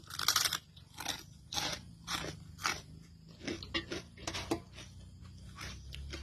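Raw shallot eaten with sticky rice and pounded eggplant is chewed close to the mic, a run of sharp crunchy bites and wet chewing in an irregular rhythm, loud and alone without talk.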